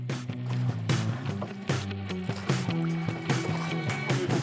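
Oars of a pinasse fishing boat creak and knock in a regular rowing rhythm, close and distinct, with water splashing between strokes.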